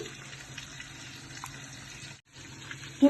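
Water poured from a tap into a pot of seafood soup, a steady low running wash that continues for about two seconds, breaks off briefly, then resumes with a small clunk at the end.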